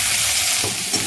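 Chopped onions fry in hot oil with cumin in a pan for a raw-banana kofta curry, a loud steady broadband sizzle with a few soft stirring scrapes near the end, close up and with no talking.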